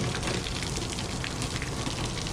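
Simulated heavy rain sprayed over a classic car in a restoration shop makes a dense, steady hiss of water drumming on the body, close and loud without a break, with no voices.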